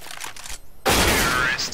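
AK rifle fire in a Counter-Strike style competitive matchmaking game: quiet muffled sounds, then a sudden loud, dense burst of gunfire that rings on for about a second, with faint talk earlier.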